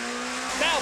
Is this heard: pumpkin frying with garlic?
no